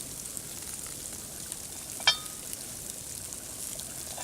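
Venison chili simmering in a pot over an open fire outdoors in sleet, a steady faint sizzle and hiss with one brief sharp pop or crackle midway, no voices.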